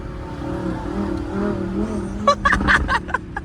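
A BMW F80 M3 engine rises and falls in pitch as it revs through a downshift. A burst of sharp pops and crackles follows near the end, all loud and close.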